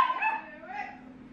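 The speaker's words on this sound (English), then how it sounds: "Anybody want a dog? I got a dog for sale." A pet dog whimpers and yips in a few high, whiny bursts close by, with a person's voice mixed in around them.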